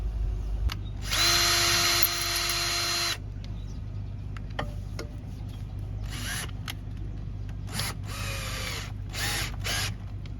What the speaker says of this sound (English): Just drill and tap some holes through this leg, bolt it up